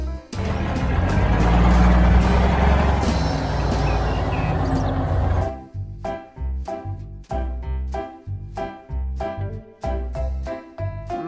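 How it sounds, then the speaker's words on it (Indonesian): A toy tow truck makes a loud, dense, rumbling engine-like noise for about five seconds, then it stops abruptly and a bouncy, beat-driven tune plays with no one speaking. "Mobil truk derek."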